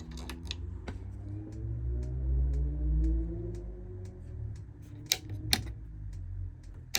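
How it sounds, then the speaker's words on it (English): Sharp, evenly spaced clicks of a gas heater igniter in a Bessacarr E625 caravan ticking away at a steady pace over a low rumbling background hum, fairly faint and slightly distant. "you can hear the igniter clicking in the back"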